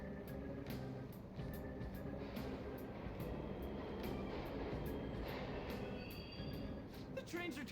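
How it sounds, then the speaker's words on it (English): Subway trains rumble continuously through an underground station in the video game Persona 5 Royal, a dense rolling din with faint rhythmic clicks and a brief high squeal near the end. "The trains are totally running."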